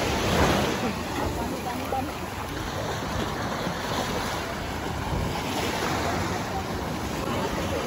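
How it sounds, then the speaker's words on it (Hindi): Sea waves wash up at Baga Beach in Goa at night, a continuous loud rush of surf mixed with wind noise on the microphone. "एकदम जहाँ डिनर कर रहे हो पार्टी कर रहे हो वहाँ तक पानी आ रहा है अब तो।"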